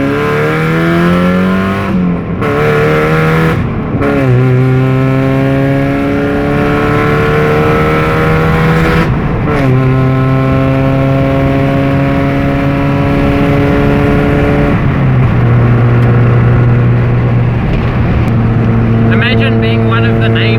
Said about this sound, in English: Mum and Dad reckon they can hear my car from at home when I go past to school